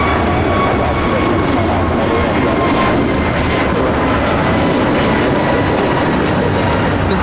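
An American Airlines Airbus A321neo jet takes off from LAX, a loud continuous engine roar with a thin whine running through it, heard from close by with no talk.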